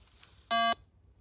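A metal detector sweeping the grounds of a chateau while treasure hunting gives a single short electronic beep, loud and tonal, standing alone against faint outdoor background.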